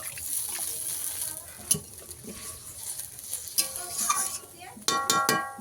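Water goes into a frying spice paste for Tul fish curry, bringing a close crackling sizzle and stirring, with a louder spitting, clattering burst toward the end.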